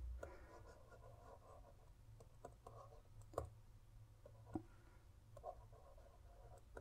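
Stylus writing on the screen of a LikeBook P10 large-screen Android e-reader, giving soft, faint scratchy strokes with a few sharper taps, close up over a low background hum.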